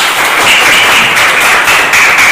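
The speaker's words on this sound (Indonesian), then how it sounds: "Tepuk tangan dulu untuk Sandro." A school class applauds a pupil named Sandro during a lesson: dense, steady, loud clapping from many hands in a room, continuous throughout with no voices over it.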